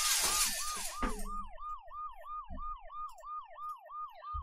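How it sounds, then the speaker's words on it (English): A wailing electronic ambulance siren in a video game sweeps up and down repeatedly in a steady rhythm, following a brief burst of shattering glass at the start. "the ambulance's deafening siren"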